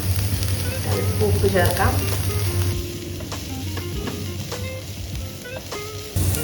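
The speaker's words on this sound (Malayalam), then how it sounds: "ചെറിയ സവോള ചെറുതായിട്ട് ചോപ്പ് ചെയ്ത് വെച്ചിരിക്കുന്നതാണ്. ഒന്ന് നമുക്ക് സോട്ട് ചെയ്യാം." Finely chopped small onions sautéing in a pan for a Goan fish curry, giving a steady close sizzle with occasional stirring scrapes, while a voice speaks briefly over it.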